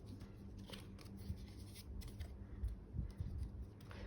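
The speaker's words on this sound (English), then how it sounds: "Just going to trim off the overhang." Scissors snip through the overhang of patterned paper panels for a handmade gift box, a few soft, faint cuts and rustles close by.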